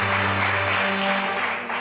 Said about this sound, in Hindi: तो एक बार फिर तालियां इन दोनों के लिए,